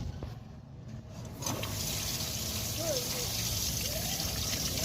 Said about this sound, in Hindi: अब जो है ना फुल प्रेशर के साथ पानी निकल रहा है